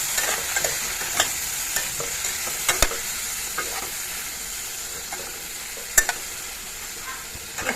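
Pieces of gorai fish fry in a pan with salt and turmeric, giving a constant close sizzle broken by sharp scraping clicks as they are stirred and turned, with no talking.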